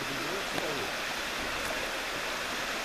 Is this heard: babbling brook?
yes